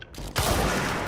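Video game gunfire in Control bursts in loud and dense after a brief quieter lead-in, a sustained close volley filling the rest of the moment.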